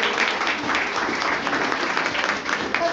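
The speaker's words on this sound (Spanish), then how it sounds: "Un aplauso." Classroom applause in a law lecture, a brief burst of clapping from a group of students lasting a few seconds, dense and fairly close.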